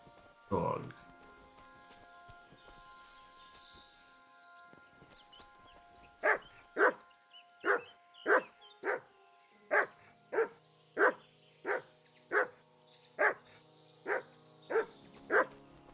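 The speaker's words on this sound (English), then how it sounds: "Dog." Dog in the video game Kingdom Come: Deliverance II barking about fifteen times in a steady rhythm, close and clear, after a single early yelp and over a faint background drone.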